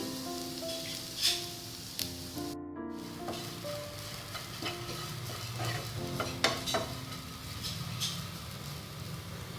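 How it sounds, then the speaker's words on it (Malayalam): Grated coconut fries in ghee in a pan, giving a constant soft sizzle. Scraping stirring strokes and occasional light clinks of the utensil against the pan sit on top of it, close and with no voices. "ചിരകി വെച്ചിരിക്കുന്ന തേങ്ങ നമുക്ക് ഇതിലേക്ക് ചേർത്തിട്ട് ഫ്രൈ ചെയ്തെടുക്കാം."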